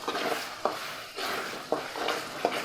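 Chicken curry is stirred in a pan over a soft sizzle, with about four sharp spoon scrapes against the pan in a loose rhythm, close and fairly loud.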